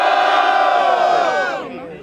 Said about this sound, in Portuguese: quem gostou das rimas da Jessiquinha faz muito barulho